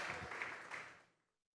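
A church congregation claps together in a steady, full round of applause that tapers off and dies to silence near the end.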